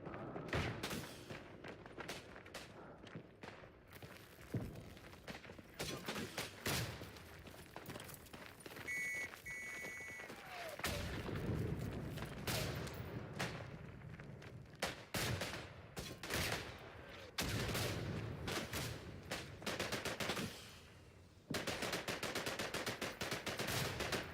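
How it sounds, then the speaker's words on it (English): Incoming artillery and rifle fire on an Isonzo battlefield, a dense stream of sharp gunshots and volleys crackling near and far with heavy booms mixed in, continuous for the whole stretch. "Artiglieria in arrivo!"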